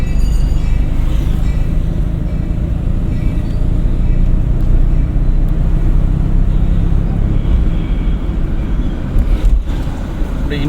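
Car engine droning steadily from inside the cabin during a driving lesson while the driver shifts into third gear, a constant low rumble with road noise and no clear break.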